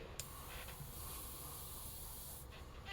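Spray paint hisses steadily through a stencil onto a custom crappie fishing lure in one continuous, close spray with brief sharp onsets.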